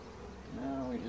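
Honeybees in a museum hive give a steady, close buzzing hum that swells and grows louder partway through, with a droning tonal whine in the second half.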